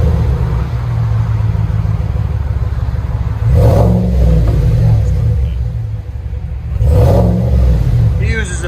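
A 2021 Chevy Silverado 6.2L RST Z/71 with dual exhaust and a Vibrant resonator, parked and idling with a deep, loud rumble, then revved twice in short bursts that swell and drop back to the steady burble.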